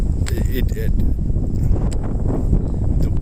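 Gusty wind buffets the microphone on the 18th hole of a golf course, a continuous low rumbling roar with a few faint higher tones, close and loud.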